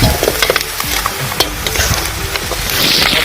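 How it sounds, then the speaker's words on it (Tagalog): Pork leg (pata) frying in its own rendered fat for humba, a steady close sizzle with crackles and the scrape of stirring running throughout, no voices. "Hibas-hibasin lang natin ito mga boss hanggang sa magpag-prito na siya sa sarili niyang mantika."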